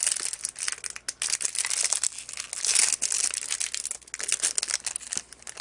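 Stiff plastic blister packaging around a Winsor & Newton pigment marker crinkles and crunches as it is pried and torn open, a close, continuous run of sharp crackles with brief pauses and no talking.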